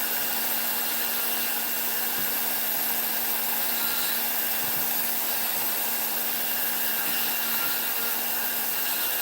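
Rotary tool with a fine burr carving soft wood, a constant high-pitched whine with grinding texture, steady and close, no pauses.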